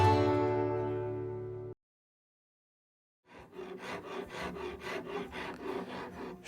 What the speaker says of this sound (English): Shaping is what I do, and an RU rasp is just the perfect tool